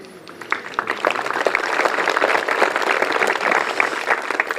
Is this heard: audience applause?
yes